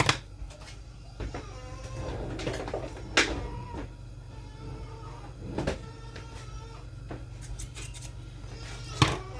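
A few sharp snips of kitchen scissors, scattered and fairly close, over a steady low hum with occasional clinks in the background, while cooking with frying oil.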